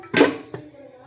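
A steel plate clinks in a kitchen, one bright metallic clatter followed by a smaller tap, close and brief.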